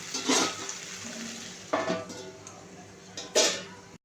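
Okra being stirred in a pan: three distinct scraping, clattering strokes of a utensil against the pan spaced a second or so apart, over a faint continuous sizzle.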